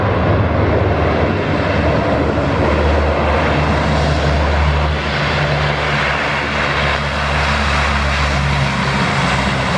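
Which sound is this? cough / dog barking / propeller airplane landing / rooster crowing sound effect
propeller airplane landing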